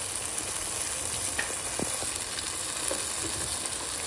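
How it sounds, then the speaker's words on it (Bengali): A spice blend frying in a pan for bhindi masala gives a steady, soft sizzling hiss with faint stirring taps, even and continuous throughout. "সব মশলা দিয়ে ভালো করে কষিয়ে নিচ্ছে"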